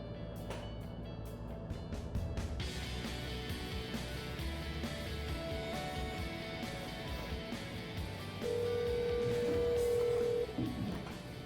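A telephone number being dialed: a quick series of short tones near the start, followed by steady line tones and a longer sustained tone later on.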